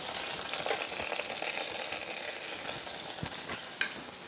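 Cornish game hen crisping in a hot pan gives a continuous bright sizzle with occasional sharper pops and a light scrape near the end, with no talking.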